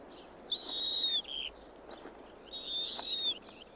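An owl in a wintry setting gives two drawn-out, high whistling calls, each lasting under a second and separated by a short gap, fairly close over a quiet background.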